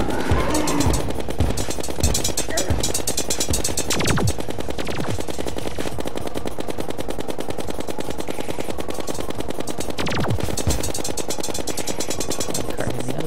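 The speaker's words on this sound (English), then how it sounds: "So let's just run backwards while firing totally randomly." Continuous rapid-fire gunfire from the video game Terraria, fast repeating shots close and loud, over busy game effects and background music.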